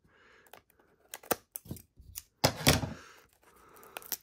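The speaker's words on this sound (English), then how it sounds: "always be careful when using scissors" Scissors snip through plastic packaging on a Dragon Shield Matte Purple card sleeve box, giving a few sharp, close cuts in an uneven rhythm with short pauses between them.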